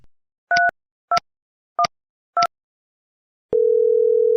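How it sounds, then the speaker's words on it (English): A Mitel 5360 IP desk phone dialing a four-digit extension: four short, evenly spaced DTMF key tones, loud and clean, followed by a steady continuous call tone, with no talking. "Dial Kevin's extension 3212."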